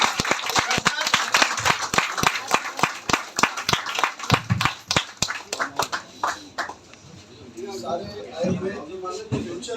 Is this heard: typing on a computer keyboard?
no